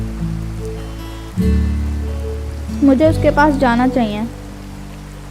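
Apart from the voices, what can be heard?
rain falling in Sakura School Simulator video game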